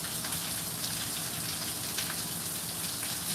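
Natural rain falls in a steady, even hiss, soft and continuous throughout with no voices.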